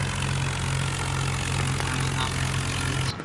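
Tractor engine in a farming video game, working under a deeply sunk plough: a loud, steady, droning hum that holds unbroken, then cuts off abruptly at the very end.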